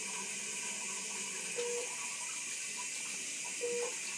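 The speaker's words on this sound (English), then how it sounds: "Make sure you wash your hands proper amount of time." Hands being washed under a running tap, a steady, moderately close hiss of flowing water with two short faint tones heard behind it.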